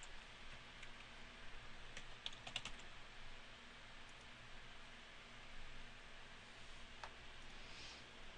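Username and password keys tapped on a computer keyboard, heard faintly as scattered light clicks, with a quick burst of keystrokes in the middle, over a soft steady hiss in a quiet room with no talking.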